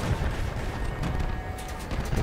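A Spark weapon firing during a Crossout vehicle battle, producing a dense, continuous crackle of shots with rumbling low noise and a few sharper bursts near the end.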